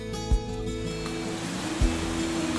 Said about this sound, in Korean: 시원스레 흘러내리는 폭포가 먼저 감기는데